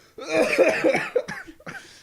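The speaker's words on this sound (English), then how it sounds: "Coughing?" Someone coughs several times in a quick burst, fairly close, followed by a couple of shorter coughs after a brief pause.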